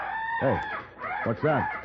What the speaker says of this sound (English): That's the cry of the Pavo Cristatus.